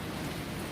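Heavy rain pounding down outdoors during a house renovation, a dense, steady hiss of drops with no break across the whole short stretch.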